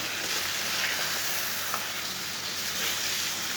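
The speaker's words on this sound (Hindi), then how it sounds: "लहसुन डाल के दोबारा इसे 3 मिनट के लिए भून लेंगे" Chopped garlic and onion fry in a pan with a steady, close crackling sizzle, an even wash of hiss with occasional small pops and no voices.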